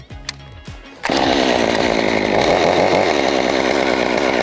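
A chainsaw is pulled into life after a few quieter sounds, catching about one second in and then running loud and steady at idle, close by, with no talking.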